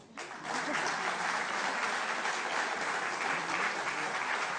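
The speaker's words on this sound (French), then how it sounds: "d'applaudir le public" Full audience applause at the Jean Rougié 2013 culinary competition, given to the public in the hall; it starts abruptly and stays dense, even and steady, at moderate level with no voices on top.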